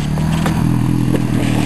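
Motorbike churning through mud at a speed mudding outing, a steady loud rumbling engine drone with scraping and clattering bursts throughout, close and continuous.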